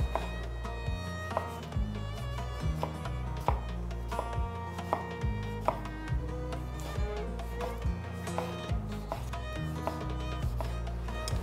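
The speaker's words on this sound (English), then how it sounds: "So chop your tomatoes while the onions are cooking" A knife chops tomatoes finely on a board, giving a quick, regular series of sharp close taps that run steadily under a cooking setting with music.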